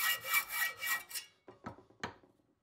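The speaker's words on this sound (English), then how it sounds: "But I still use my hacksaw for some things though." A hacksaw cuts through a metal workpiece in a metal shop, giving about five quick, rhythmic rasping strokes up close, then a few sharp clinks and taps as the cutting stops.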